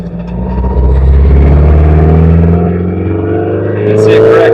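A car fitted with a Red-E Motorsports EFI system in self-learn mode, driving with a loud, steady engine rumble that rises slightly in pitch as it pulls along, recorded close from inside.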